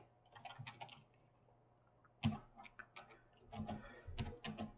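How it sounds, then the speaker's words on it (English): Computer keyboard typing in bursts of quick, soft key clicks, close and quiet, with short pauses between groups of keystrokes. "So let's start typing."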